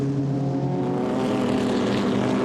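Vintage Grand Prix race cars, including Bugattis and an Alfa Romeo Tipo B with a torquey engine and three-speed gearbox, run in the Varzi Trophy, their engines a steady, dense, rasping drone at moderate distance.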